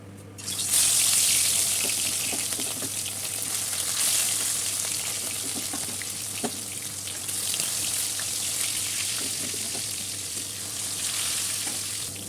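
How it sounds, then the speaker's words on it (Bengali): Katla fish fries in mustard oil in a wok, giving a loud, steady broadband sizzle that stays close and continuous throughout, with occasional clinks and stirring noises on top. "কড়াইটা ভালো করে গরম করে নিয়েছি গরম হয়ে যাওয়ার পর দিয়ে দেওয়া হলো সর্ষের তেল এবার মাছগুলোকে ভেজে নেব"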